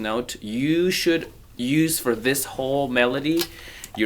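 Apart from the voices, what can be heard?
No everyday noise stands out behind the speech.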